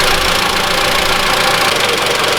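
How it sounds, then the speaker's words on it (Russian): A 2013 Mitsubishi ASX 1.8 engine running steadily just after a restart, giving an even, close mechanical hum with a faint knocking undertone and no voices. "Двигатель я прогрел, несколько раз заглушил, завел, звук не проявляется."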